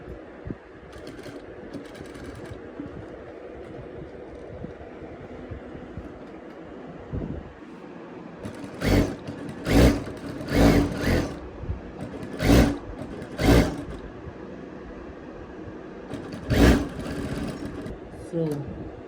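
A sewing machine runs a top stitch on a button-down shirt in short, loud bursts of rapid clattering, spaced apart after a quieter stretch, with a voice talking underneath.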